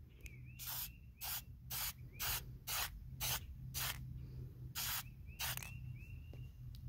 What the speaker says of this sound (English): I'm just going to spray the seal coat on top of it